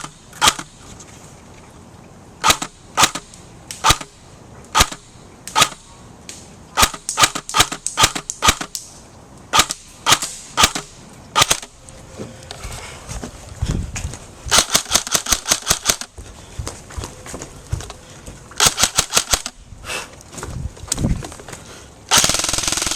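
An M16 rifle with a camera mounted on it fires outdoors, loud close single shots and rapid strings of shots spread across the stretch, with short pauses between volleys.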